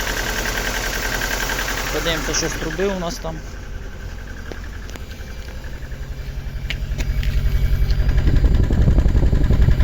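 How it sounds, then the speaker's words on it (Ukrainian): A 1.6-litre Lada engine idles with a misfire, a steady low throb and uneven knocking rhythm, rising louder toward the end, while someone talks over it. "О, Чуємо, що троїть."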